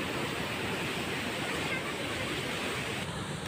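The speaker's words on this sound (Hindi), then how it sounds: "देख सकते हैं दोस्तों, यहाँ पानी कैसा निकल रहा है और इधर बह के" Water gushes out of Hirakud Dam and flows into a canal, a dense, steady rushing roar that stays constant and fairly close throughout, with no talking.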